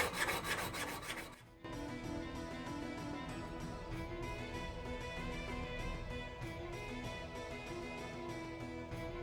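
A hand file rasps along a bronze khopesh sword blade, a steady scraping texture after a brief louder opening burst, continuing evenly and close up with no talk.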